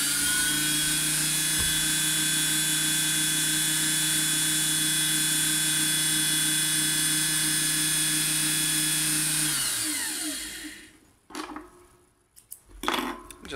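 A vintage Singer 401A sewing machine winds a bobbin, giving a loud, steady motor whir with a high mechanical whine that runs unbroken for about ten seconds, then winds down and stops, leaving faint clicks and handling noises.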